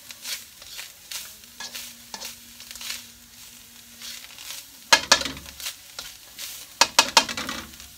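Lasagne sauce ingredients being mixed in a pan inside a caravan by the sea, with intermittent spoon scrapes and clatters over a faint sizzle and a low hum, rising into several louder bursts of stirring toward the end.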